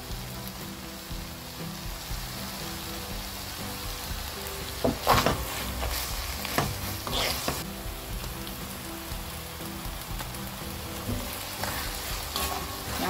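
Pork neck and shishito peppers stir-fried in a pan with onion, chili, green onion and perilla leaves, a steady soft sizzle with a few louder scraping stirs near the middle, no talking.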